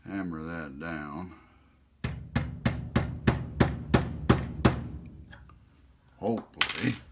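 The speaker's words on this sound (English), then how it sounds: "I'm going to hammer that down." A part of a Zaima Companion butane lighter is hammered down: about nine sharp, evenly spaced metallic taps, preceded by a voice speaking and followed by a few quieter knocks.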